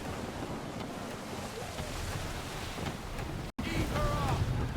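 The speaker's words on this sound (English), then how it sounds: "Gusty winds can be difficult to manage." Blustery wind and rolling sea waves on a sailing ship in Assassin's Creed III, a steady broad rush with surf swells, briefly cut to silence before returning with creaking and gusts.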